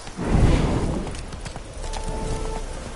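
Horse hooves clip-clop at a walking pace on hard ground in the video game The Witcher 3, close by, with a soft rumble of movement underneath.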